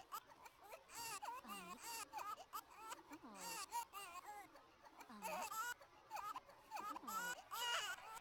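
A baby in The Sims 4 cries and wails in repeated rising and falling bursts, loud and continuous, with a game character's voice mixed in and occasional giggly sounds.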